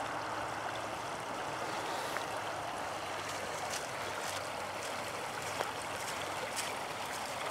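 Seven Persons Creek running in winter with light snow flurries, a steady broadband rush and trickle of water close by, continuous and even throughout with no talking.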